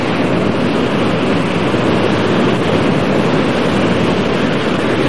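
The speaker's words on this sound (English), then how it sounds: "This is the Pacific Ocean." Pacific Ocean surf on a California beach makes a steady, loud, broadband roar that holds at an unbroken wash for the whole stretch, with no voices.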